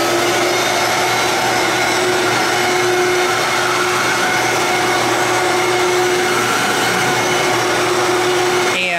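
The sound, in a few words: Kenmore Destiny Plus vacuum cleaner running on a runner rug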